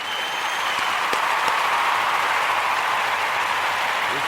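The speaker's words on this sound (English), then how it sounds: "give all of the Kujichagulia babies a round of applause" A roomful of people applauds for the Kujichagulia babies during a Kwanzaa celebration, a dense, steady wash of clapping that holds at an even level for about four seconds with no voices above it.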